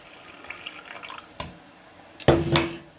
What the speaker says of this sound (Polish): I zaleję je ciepłą wodą do połowy